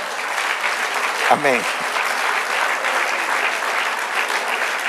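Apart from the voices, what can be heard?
congregation applause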